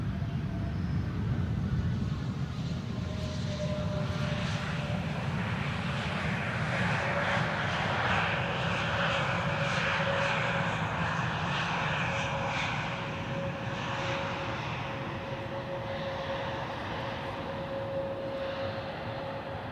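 A Boeing 777 jet arriving at Amsterdam Schiphol makes a loud, close engine roar with a sustained high whine. It swells early, then slowly eases off over twenty seconds.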